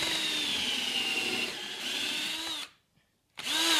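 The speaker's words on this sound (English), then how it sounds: "so you can spin the drill to get the material out." A power drill spins a bit freely to clear wood chips, a steady whirring drone that runs close and loud, cuts out briefly to silence, then starts up again.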